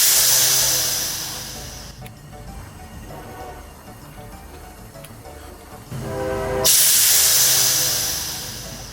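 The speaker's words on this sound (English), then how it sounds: "I'm going to run gas into my keg for about 20 seconds" Pressurized CO2 gas hisses loudly into a beer keg, a broad steady rush that fades to a quieter flow in the middle before surging back strong near the end.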